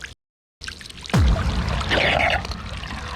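New aerator at an outdoor pool sending water splashing and pouring into the pool, a steady close rush of water that starts after a brief silence and a short bump, carrying on to the end.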